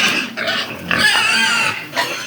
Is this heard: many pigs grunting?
yes